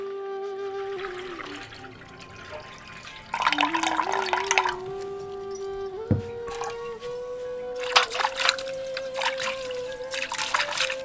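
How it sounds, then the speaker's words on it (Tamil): Half a kilo of raw white rice being washed in water: soft trickling, dripping and swishing in a near quiet room, with bursts of sloshing as the grains are stirred and rinsed, no talking. "அரைப்படி பச்சரிசி, அதாவது 1/2 கிலோ பச்சரிசியை நல்லா கழுவி ஊற வச்சிடலாம்."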